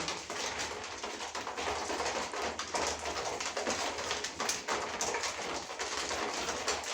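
Domestic pigeons, including pouter and owl breeds, make a steady, dense bed of soft cooing and fluttering sounds in a loft, continuous and fairly close, with no voice heard.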